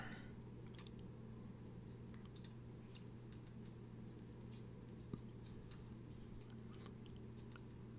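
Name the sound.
computer keyboard keystrokes in Affinity Designer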